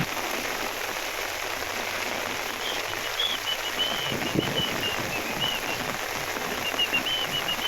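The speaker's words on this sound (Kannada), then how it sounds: "ಈ ರೀತಿ ಧಾರಾಕಾರವಾಗಿ ಮಳೆ ಸುರಿತಾ ಇರೋದನ್ನ" Heavy rain pours steadily in Chitradurga, Karnataka, a dense, continuous hiss of downpour on surfaces with no pauses, loud and close throughout.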